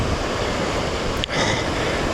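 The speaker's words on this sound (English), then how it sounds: "I don't know if you can hear me because of the wind, but look at those waves." Strong wind buffets the microphone beside a loch with waves washing in along the Great Glen Way, a loud, steady roar with one brief gusty dip midway.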